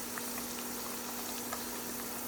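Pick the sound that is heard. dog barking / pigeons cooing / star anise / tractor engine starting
star anise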